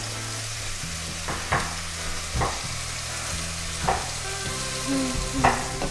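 Venison meat browning in a pan, sizzling steadily throughout, with periodic clanks and scrapes of stirring.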